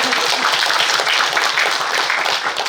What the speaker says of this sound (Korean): 박사님한테 큰 박수 좀 부탁드리겠습니다.